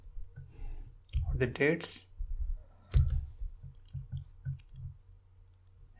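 Computer mouse clicks while building a table in Power BI, a few sharp isolated clicks heard close up between and under a man's speech.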